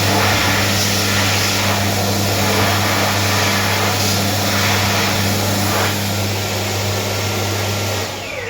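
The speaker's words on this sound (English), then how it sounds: "Both the men's and the disabled in this McDonald's have got a Dyson Airblade" A Dyson Airblade V hand dryer in a McDonald's restroom in Mangere, Auckland roars loud and close with a steady blowing whoosh and a low hum, cutting off near the end.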